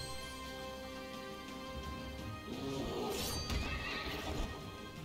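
A horse in the video game Child of Light gives a shrill neigh during a battle, rising over a soft game backdrop with a brief crashing hit under it.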